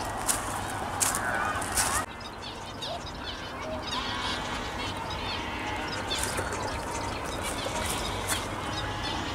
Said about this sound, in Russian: Какие-то птички.